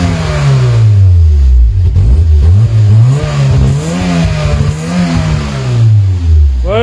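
Fiat Punto engine close by, running and repeatedly revved, its pitch rising and falling in several loud swells over a steady idle.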